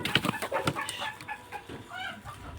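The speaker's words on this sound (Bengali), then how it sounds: "লাস্ট মাথার ঘরটা সবচেয়ে বেশি মুরগি আছে।" Laying hens in a crowded poultry house cluck and squawk close by, overlapping calls in short bursts with a low barn hum underneath.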